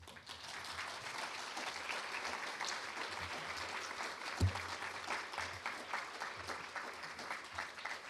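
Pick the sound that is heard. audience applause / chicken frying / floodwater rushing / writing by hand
audience applause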